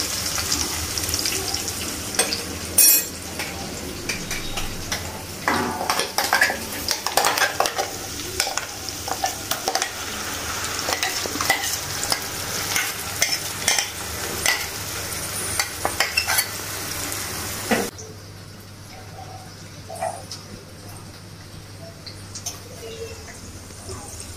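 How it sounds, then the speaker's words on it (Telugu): Turmeric tempering for mint chutney frying in a pan, crackling sizzle with frequent scraping stir strokes up close, then the stirring stops and only a quieter sizzle continues near the end. "అలాగే ఇందులో చిటికెడు పసుపు కూడా వేసుకొని పోపుని మంచిగా ఫ్రై చేసుకోవాలి"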